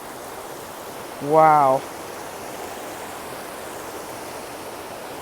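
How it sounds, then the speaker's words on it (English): Water pours steadily from a large pond spillway into a waterfall-like channel, a constant broadband rush that runs the whole time, with a brief exclaimed word near the start. "there's a huge spillway from the pond that spills all the way over here"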